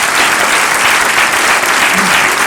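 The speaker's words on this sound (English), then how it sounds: "Give yourselves a huge round of applause for being here as a power couple." A dense, loud round of audience applause for couples at a WFG Momentum Monday business event, continuous and unbroken for the whole stretch.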